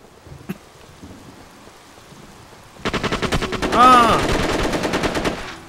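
A light machine gun fires in SOCOM 2, loud rapid bursts that start suddenly after a quiet stretch and then run as a continuous stream of shots.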